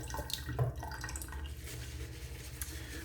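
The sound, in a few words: water being added to a tub of Cella shaving soap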